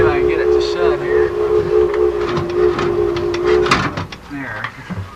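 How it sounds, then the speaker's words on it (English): A steam locomotive whistle blowing, a sustained near tone held for several seconds before cutting off, followed by hissing and clanking of the engine, with someone talking over it. "the steam that we're making is going up to the whistle now"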